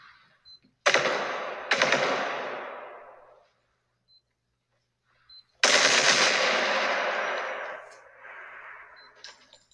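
Bursts of gunfire from the first-person shooter video game Body Cam: two sharp rapid volleys, a pause with faint clicks, then a longer sustained burst that trails off. The shots are loud and punchy, with no talk over them.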